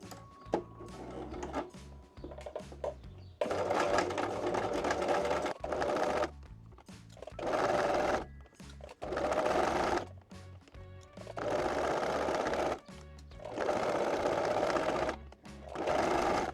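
A sewing machine runs in repeated bursts of several seconds each while top stitching apron straps, close and loud, separated by brief pauses with soft handling sounds.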